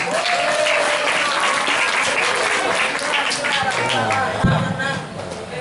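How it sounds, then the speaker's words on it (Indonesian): Sustained audience applause for a boy named Raffi at an Islamic religious gathering, dense steady clapping from a large crowd that thins slightly near the end. "Tepuk tangan untuk Raffi."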